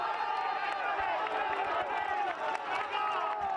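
Huge roadside crowds cheer and clap along a mountain climb at a Vuelta a España cycling stage, a dense continuous roar with whoops and applause, with a commentator's voice heard underneath.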